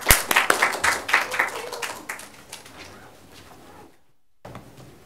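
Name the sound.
audience clapping hands in welcome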